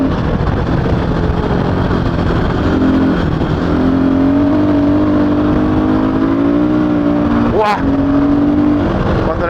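Husqvarna FE 450 Rally motorcycle engine running close and loud, a steady droning note that climbs gradually before a sharp rising rev near the end, with an excited voice exclaiming over it.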